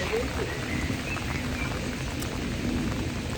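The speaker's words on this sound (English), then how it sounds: "it starts raining." Steady rain falls outdoors in England during a June summer shower, a soft, even hiss that stays moderately quiet throughout with no voices.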